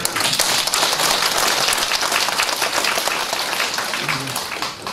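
Sustained applause from an audience at a family pledge rally in Jinju, a dense wash of many hands clapping steadily for about five seconds, loud and continuous before easing slightly at the end.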